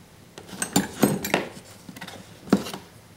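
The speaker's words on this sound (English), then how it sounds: "Hold the 13mm nut with the adjustable wrench. Use the 12mm here and tighten this up." Metal clinks and taps come from wrenches tightening a 13mm nut while a steering knuckle is assembled on a StreetStrider, a few sharp knocks spaced irregularly and close by.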